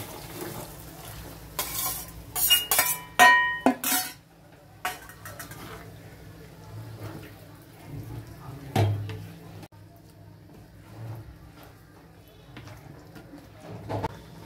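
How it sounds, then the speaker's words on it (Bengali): Kidney beans are tipped into a frying pan of spicy dhaba-style rajma masala, with clattering spoon-and-pot scraping, stirring, and sizzling in bursts, and a voice speaking at times. "এবারে আমি রাজমাটা দিয়ে দিচ্ছি।"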